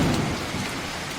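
Steady, dense rain with a low thunder rumble, a continuous hiss filling the short moment without any voices.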